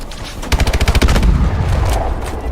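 A rapid burst of automatic gunfire from the Call of Duty: Advanced Warfare campaign, loud, close, sharply repeating shots that give way to a lingering rumble and scattered impacts.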